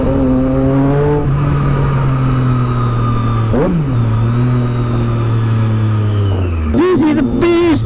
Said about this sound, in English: The exhaust is way too loud, guys.